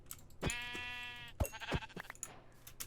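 A Minecraft sheep gives a clear bleat up close, followed by a few clicks and soft game sounds in the background.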